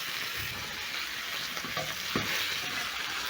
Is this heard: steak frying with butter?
yes